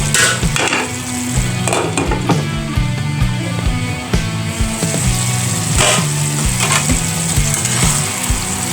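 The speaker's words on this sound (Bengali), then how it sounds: "আরেকটু সময় লাগবে আমার সবজিগুলো কষাতে" Mixed vegetables sautéing in a pan for a rui fish curry, a loud dense sizzle with rhythmic scraping and clattering of the spatula against the pan, repeated strokes close by and no talking.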